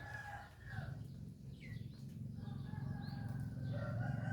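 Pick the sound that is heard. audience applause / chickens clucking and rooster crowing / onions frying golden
chickens clucking and rooster crowing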